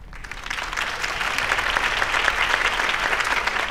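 A large crowd applauds a campaign speech in a Batman video game continuously, a thick, even wash of clapping that swells slightly and holds steady throughout.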